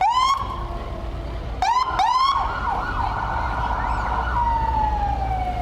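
Fire truck sirens wail nearby during a parade, with short rising whoops followed by a long sustained wail over a low rumble of traffic.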